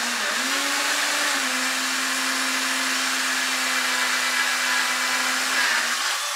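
A power drill runs steadily under light pressure while boring into material for a homemade solar air heater, a loud continuous motor whine that holds one pitch for several seconds and dips briefly at start and end.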